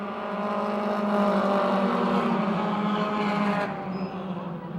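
Race cars fight for the lead in a four-car pack on a speedway, making a loud, steady, near engine roar that keeps its pitch and then eases off slightly toward the end.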